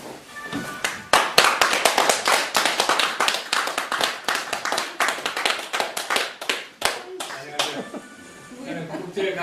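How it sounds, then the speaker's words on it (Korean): An audience at a lecture at a cultural centre claps in warm welcome, dense rapid applause building quickly and holding steady before thinning out near the end. "여러분 뜨거운 박수로 맞이해 주시기 바랍니다"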